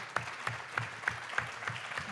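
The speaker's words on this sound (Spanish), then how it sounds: "un fuerte aplauso" Sparse audience applause after a call to welcome a performer, with slow, distinct claps at an even rhythm of about three per second, fairly faint and with no voices.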